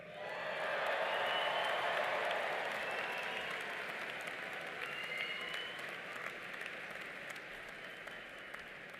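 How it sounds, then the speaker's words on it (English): A large audience applauds new graduates at a college commencement ceremony, a broad, sustained wash of clapping that swells early and then holds steady at moderate distance throughout. "Let's give the new graduates another round of applause."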